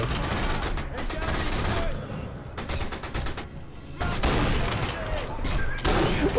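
Heavy gunfire from the sniper video game Sniper Elite V2, dense bursts of shots and booms pounding almost continuously, with brief lulls between volleys.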